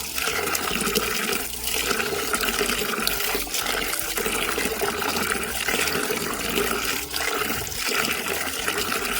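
Water running and gushing continuously while bilimbi fruit is washed for pickle, a loud steady splashing flow that stays even throughout with no talking.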